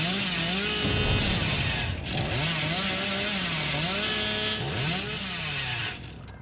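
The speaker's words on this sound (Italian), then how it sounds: "Praticamente carichi più velocemente la motosega" A chainsaw revs in the Dead by Daylight video game, a loud continuous buzzing roar with repeated rising and falling pitch swells and brief dips.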